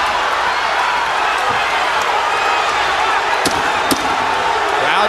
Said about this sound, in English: Crowd cheering for their guy, Rocky Juarez, as he gets inside.